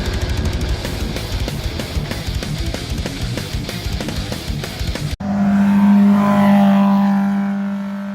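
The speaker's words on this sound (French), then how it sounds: "C'est une Porsche." A Porsche race car at a hill climb roars loudly past, engine note rising with revs for about five seconds, then a sharp cut to a steady, droning engine tone that swells and fades as it recedes.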